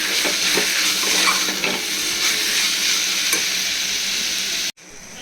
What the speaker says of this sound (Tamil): தக்காளி சேர்த்துப்போம் வதங்கட்டும் நல்லா வதக்கி விடணும்